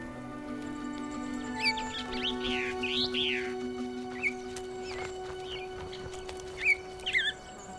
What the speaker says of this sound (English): The Tenerife blue chaffinch.